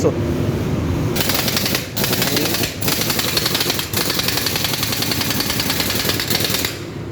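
An impact wrench hammers a center bolt tight on an Isuzu 175 hp truck during axle repair in a workshop, giving loud, continuous rattling bursts broken by a few brief pauses.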